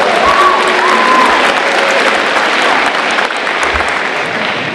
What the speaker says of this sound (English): So let's give a big hand of applause and thank you to everybody that made today possible.